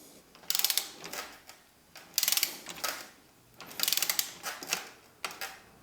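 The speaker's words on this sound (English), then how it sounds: "go ahead and grab our torque wrench" A torque wrench ratchets a 12mm through axle tight on a 2023-onward Marin Rift Zone 1 bike, giving three close bursts of quick, crisp clicking separated by short pauses.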